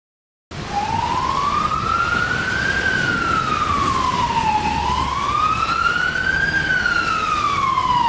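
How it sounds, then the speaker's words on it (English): Ambulance siren wailing in long smooth rising and falling sweeps, steady and loud throughout with no talk. "Ambulance."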